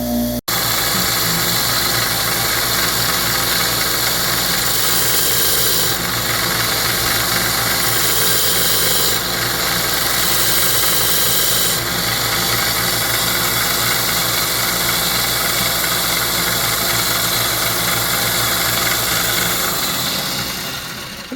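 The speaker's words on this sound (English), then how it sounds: "We'll move over to the sander and do a little bit there." A belt sander grinds a titanium and S90V steel knife, a loud continuous whining drone with shifting tone as pressure changes, running steadily before winding down at the end.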